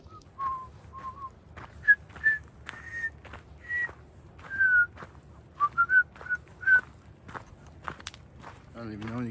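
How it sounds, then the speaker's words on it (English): A person whistles out in a forest, trying but struggling to carry a tune: short, breathy whistled notes come in uneven bursts, with footsteps on the forest floor and other sounds mixed among them. "I don't even know any good songs to whistle."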